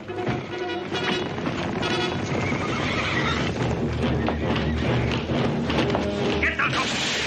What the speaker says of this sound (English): Paul, the horses.